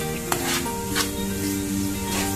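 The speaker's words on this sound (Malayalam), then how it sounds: "അത് നന്നായിട്ട് ഇളക്കി യോജിപ്പിക്കുക" Beetroot being stirred into a chicken stuffing mix in a hot pan, with a steady close sizzle and a few sharp scrapes of the spoon against the pan.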